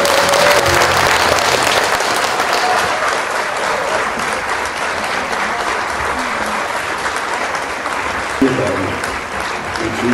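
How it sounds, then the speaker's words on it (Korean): A hall audience claps at a harmonica music concert and agreement-signing ceremony, steady sustained applause filling the room for about ten seconds, with a voice heard faintly beneath it. "다시 한번 큰 박수 부탁드리겠습니다."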